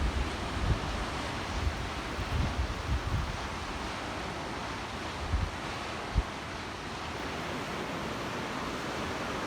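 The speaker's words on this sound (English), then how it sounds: "the ocean doesn't seem to be as angry over here as it was the last place we were at" Ocean waves wash into a rocky cove on the coast near Coos Bay, Oregon, as a steady, moderately loud rush of surf with gusts of wind across the microphone and no voices.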